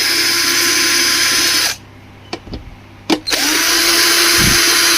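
Cordless screw gun backing screws out of a Preethi mixer grinder: a loud, steady high whine for a couple of seconds, a pause with small clicks and handling taps, then the whine resumes just as loud and close.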